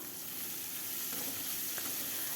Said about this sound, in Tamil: ரெண்டு வெங்காயத்தை சேர்த்துட்டு வதக்கிக்கலாம்